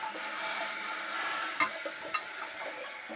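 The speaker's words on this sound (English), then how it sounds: "All that noise you're hearing is the air going through the line." Air rushes and hisses steadily through a refilling toilet water supply line, a close, broad sputtering noise with a few sharp pops and spits.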